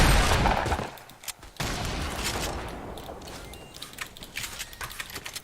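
Gunfire crackles through a battle royale video game match. A loud opening burst fades, then comes back as a continuous run of rapid, fairly distant pops and rattles without speech.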